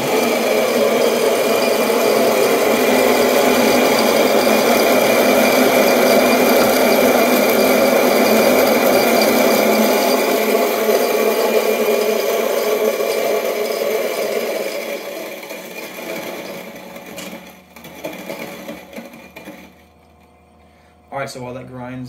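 A coffee grinder runs continuously, grinding a dose for espresso beside a Londinium R24 machine, a loud steady whir for about fifteen seconds before it winds down into quieter handling clatter.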